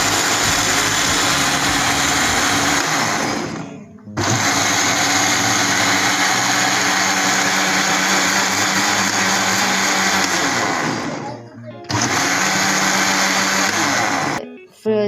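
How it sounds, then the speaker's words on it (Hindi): Electric kitchen grinder pulverising strawberries for jam, a loud, steady high-pitched motor whine running in long bursts with two brief stops between them, close and dominant. "तो जी स्ट्रॉबेरी मैंने इसे ग्राइंडर में ऐड कर दी है। अब देखिए इसमें मैं ग्राइंड"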